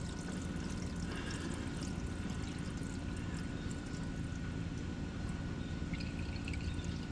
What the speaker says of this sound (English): I'm going to have to plug this up and dump the water out of this thing first